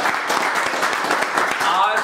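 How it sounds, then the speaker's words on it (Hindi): A class of electronics repair students claps in a steady burst of loud, close applause, dense and continuous for about two seconds. "तो मिलन सर के लिए बात जोरदार ताली।"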